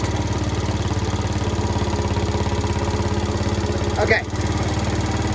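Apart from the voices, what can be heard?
scooter engine running at idle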